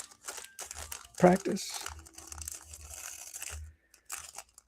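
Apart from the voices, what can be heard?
crunching while eating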